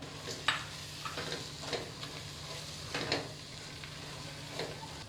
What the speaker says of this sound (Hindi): हम इसे चलाते हुए भूनेंगे ताकि प्याज हमारी जल नहीं जाए।